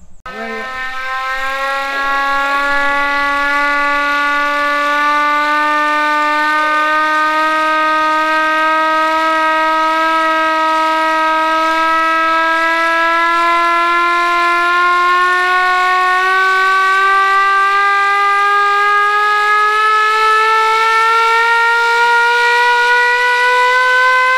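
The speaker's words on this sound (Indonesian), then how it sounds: "Salah satu tanda sirine" A Japanese civil defense siren wails loudly and continuously, its steady tone slowly climbing in pitch throughout, with no other sounds around it.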